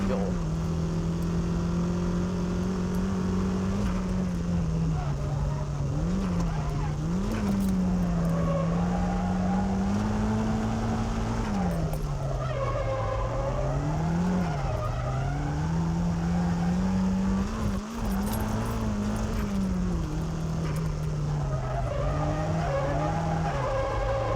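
A car drifts through a hairpin curve using the e-brake, its tires letting out a long, loud squeal that wavers up and down in pitch over steady engine noise.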